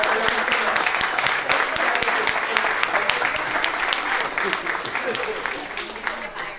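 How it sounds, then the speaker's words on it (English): A standing audience at a remembrance gathering gives sustained applause, thick continuous clapping with sharp individual claps popping out, a few voices mixed in and the sound fading slightly toward the end. "I need you guys to stand up and give her a big round of applause."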